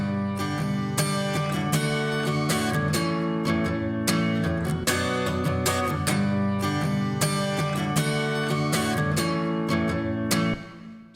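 A bright, rhythmic guitar riff repeats steadily with strong strummed accents, played alone and fairly close, stopping abruptly at the end.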